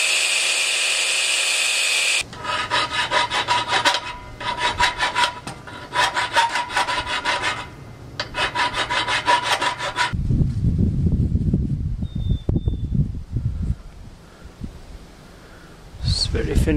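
Hand files rasp back and forth across a steel ingot being shaped into a spiral crescent, in several rhythmic bursts of scraping strokes, followed by a lower rumbling, rubbing stretch.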